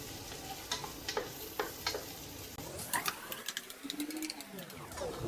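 Sliced onions frying in a pan for an egg puff filling give a soft, steady sizzle with light stirring clicks, while a voice talks over the cooking.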